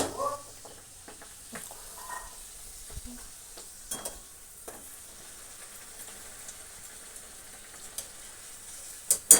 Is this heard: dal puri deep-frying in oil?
yes